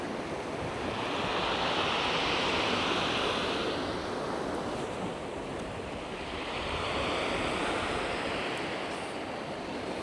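Sea waves break on a stony beach in Altea, Spain, throwing up stones, in two slow surges, each swelling into a loud hiss and rush, under steady wind noise.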